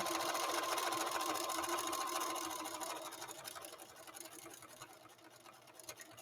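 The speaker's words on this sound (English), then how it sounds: "and then I keep sewing" Sewing machine stitching the fabric of shorts legs together, a steady close buzzing hum that runs loud and then eases somewhat quieter partway through.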